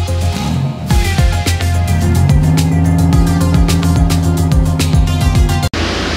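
A 759-horsepower Vauxhall Zafira GSI at the Vauxfest 2024 car show in Newport revs loudly and close, its engine note climbing through several sharp rising sweeps before cutting off abruptly near the end.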